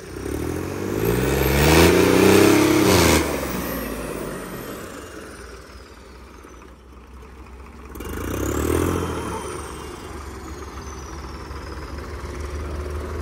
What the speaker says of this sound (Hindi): टेस्टिंग चल रही है अपने बुलडोजर की। अभी टर्बो लगाई है 61 नंबर।